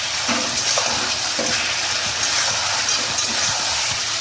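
Potatoes dropped into spiced masala cooking in a pan, giving a steady wet sizzle and bubbling with faint stirring clicks, close and continuous.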